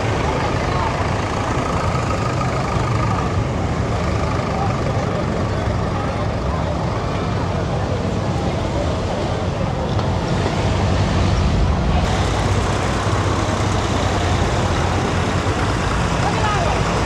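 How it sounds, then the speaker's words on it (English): Heavy lorries rumble past at close range during Barley Saturday, a loud continuous engine roar with broadband road noise that swells and stays strong throughout. "Here come the lorries now then."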